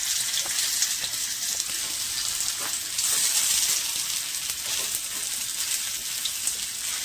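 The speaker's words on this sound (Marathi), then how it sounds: "असे सर्व आपण फ्राय करून घेणार आहोत." Methi (fenugreek) cutlets fry in hot oil with a steady, bright sizzle, a dense crackling hiss that runs on without a break and swells slightly midway, with no voices over it.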